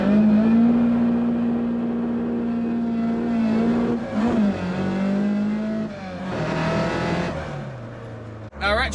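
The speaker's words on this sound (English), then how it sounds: "Everyone's firing up their engines." Several classic Ford car engines idle and rumble together at a car show, with a low steady drone and occasional revs, while people talk in the background.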